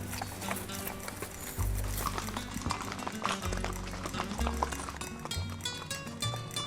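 Rhythmic clip-clop of horse hooves at a walk in a Costa Rican rainforest, fairly close, with steady footfalls and faint outdoor background.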